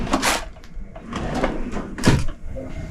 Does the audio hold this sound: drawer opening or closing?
yes